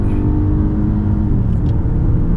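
A 2019 Toyota Camry engine hums and rumbles loudly and steadily from inside the cabin during a drive, a continuous low drone without a distinct shift break.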